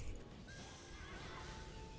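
A horse mount neighs in the online game Aion, a loud, drawn-out whinny that fills the short moment with no voices over it.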